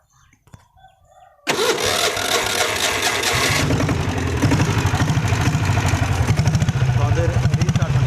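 A diesel Royal Enfield Bullet motorcycle with its stock silencer fitted is started: a short cranking clatter after faint background noises, then the engine catches and settles into a loud, steady, thumping idle.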